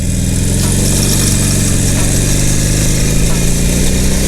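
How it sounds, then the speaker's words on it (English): Motorcycle engine held at a steady, loud drone as the rider rolls on the throttle through a turn, a continuous close rumble with only slight rises in pitch. "Roll on that throttle as you turn."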